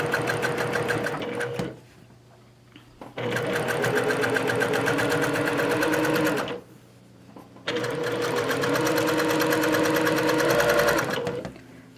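A sewing machine top-stitches a shirt placket in three long, steady runs of loud rapid whirring, with short quiet pauses between them.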